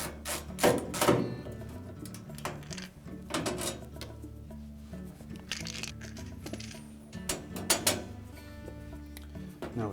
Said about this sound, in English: Next we'll remove 4 1/4-inch hex head screws.